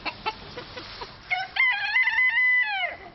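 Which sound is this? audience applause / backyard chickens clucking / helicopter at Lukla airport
backyard chickens clucking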